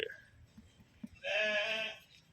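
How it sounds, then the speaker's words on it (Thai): A sheep at a zoo gives one loud, wavering bleat close by after a few soft scuffling sounds. "แกะเนาะ แกะ เออ แกะ"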